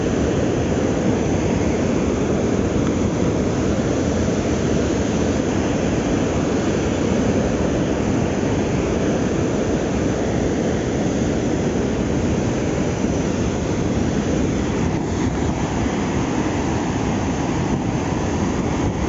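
Water rushing out of a dam release during a flood, a loud, dense, unbroken roar that holds steady throughout with no voices.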